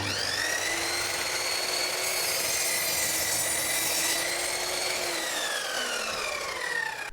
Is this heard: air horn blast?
no